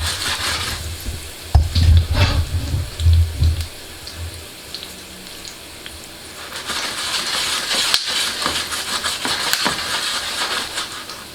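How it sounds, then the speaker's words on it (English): Whole spices frying in hot oil for masoor dal, crackling and sizzling in bursts with some stirring and clattering, rising again into a steady sizzle toward the end. "So we're infusing the oil with all these flavors now."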